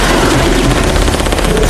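Heavy .50 calibre weapons fire in a film shootout, a dense, continuous barrage of rapid shots that fills the space loudly with no pause.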